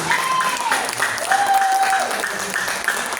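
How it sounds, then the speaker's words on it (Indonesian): An audience at a talk on riba-free wealth gives a steady round of applause, while sustained tonal sounds like a voice or feedback drift over the clapping. "Tepuk tangan dong sekali lagi."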